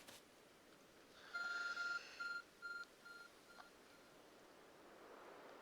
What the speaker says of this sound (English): beeping object over there. Hey, it's my phone.